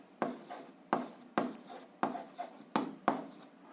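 A pen writes an answer to a seventh-grade algebra exercise by hand, giving six separate scratchy strokes at a steady pace, close and quiet.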